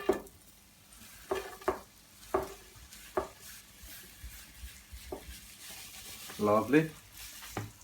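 Chopped onion hitting leftover oil in a pan after frying fish and potatoes, with intermittent sizzling bursts, stirring clatter and utensil knocks close by, and a short spoken word under it.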